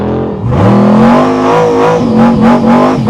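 A 1957 Nash Metropolitan with a roughly 1000-horsepower engine revs loudly and close, its pitch climbing and settling in repeated surges with a raspy exhaust note.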